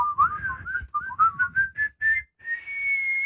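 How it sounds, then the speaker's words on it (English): A person whistles a short, wavering melody of quick rising and falling notes, ending on a long held tone, with no other sounds. "you got a good whistle"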